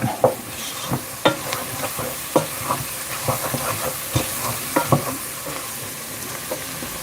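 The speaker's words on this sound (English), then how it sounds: "You're essentially making a roux." Flour cooks in melted butter and fat for a roux, giving a steady close sizzle and hiss broken by irregular scraping stirs, with no talk.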